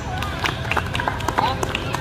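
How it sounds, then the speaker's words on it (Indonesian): Students clapping in a university classroom in Aceh, a scattered, uneven patter of hands at close range that fades in and out over a steady room murmur. "oke tepuk tangan dong"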